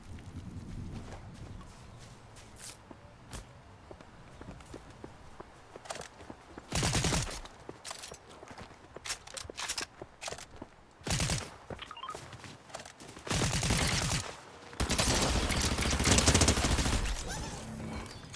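Gunfire in the video game Fortnite comes in several loud bursts and single shots over a busy background of in-game effects and footsteps, with no speech.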